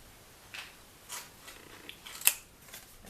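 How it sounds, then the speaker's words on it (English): Scissors cutting card up to a score line while making a gift box, a few short quiet snips spaced irregularly, close and soft against a near-silent background. "we're just going to cut up to that score line"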